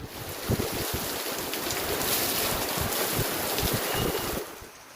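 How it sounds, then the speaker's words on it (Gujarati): Steady, dense rush of heavy rain with howling gusting wind roaring across it in Kalimpong, loud and continuous before easing off near the end. "સુસવાટા સાથે મેઘતાંડવની સ્થિતિ સર્જાઈ"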